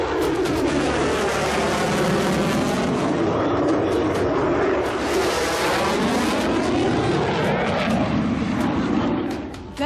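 A fighter jet roars loudly overhead in a sustained, broadband rush with a sweeping rise and fall in pitch as it passes, steady and close throughout.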